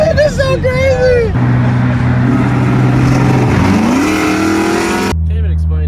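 A Hyundai Elantra N with a loud single-exit exhaust roars close by, engine revs climbing and dropping in a steady blare, while people talk and exclaim over the start and end.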